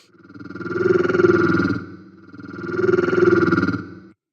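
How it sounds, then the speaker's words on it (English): A deep, buzzing monster-like growl made with the Serum synthesizer, with a pulsing, throbbing texture, swells twice, rising and fading like an alien monster's call. "Here we have this deeper kind of tone. It really has this monster/alien vibe to it"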